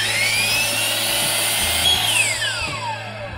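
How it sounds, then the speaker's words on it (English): A power saw blade trims the corner off a deck board to cut a bevel, a steady loud whine with the pitch sliding downward as the blade bites into the wood, no talking. "all I'm doing is cutting the bare corner off of this to cut that bevel"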